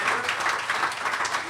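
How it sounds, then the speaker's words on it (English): Audience applause at a live concert fills the moment with steady, dense clapping from a crowd, loud and continuous throughout the short stretch. "Please give a warm round of applause."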